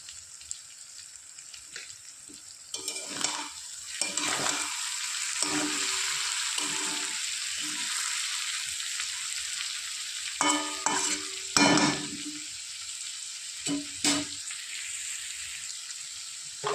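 Small fish are stirred and sautéed in a pan, the frying crackle swelling and fading as a utensil scrapes and clatters against the metal in bursts, up close and with no one speaking.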